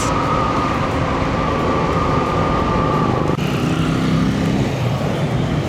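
Dense road traffic rumbles past a school, a loud, continuous drone of engines and tires that shifts in pitch partway through as vehicles pass close by.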